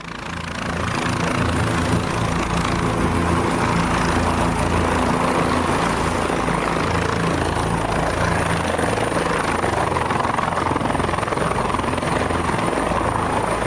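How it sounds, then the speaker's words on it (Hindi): Helicopter reported to have carried Maduro, landing in Manhattan, heard as a loud, steady rotor and engine roar that holds constant for the whole stretch with no voices. "यही है वो हेलीकॉप्टर जिससे मदुरो को लाया गया।"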